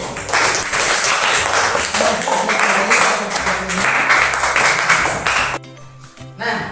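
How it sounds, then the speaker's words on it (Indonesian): A classroom group breaks into applause and clapping for a presenting team, a dense burst of many hands that runs for several seconds and then cuts off abruptly near the end. "Kita berikan aplaus untuk kelompok C."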